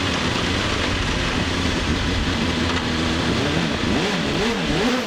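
Gould GR55B hillclimb car with a 3.5 litre Nicholson McLaren engine at a speed hillclimb, a continuous loud engine howl with wavering pitch shifts as it works through gears over heavy broadband noise.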